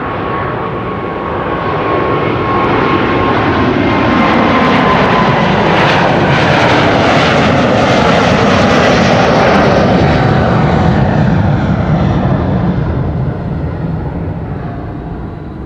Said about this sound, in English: This was KLM Flight 661 to Houston in Texas. 777-200 the PHBQN